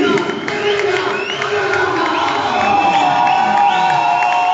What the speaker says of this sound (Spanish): El cariño de la gente, los aplausos.